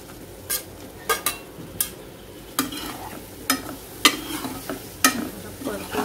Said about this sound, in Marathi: तर आता आपण पनीरचे पीसेस जे फ्राय केले होते ते मी यात घालते।